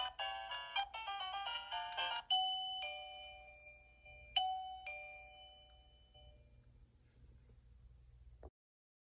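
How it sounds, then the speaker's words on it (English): A Weird Tails doggy doorbell cycles through its ringtones, playing several short electronic chime melodies one after another, fairly quiet, with ringing tones that decay before it stops. "The other 2 buttons, you're able to select the ringtone by clicking either right or left."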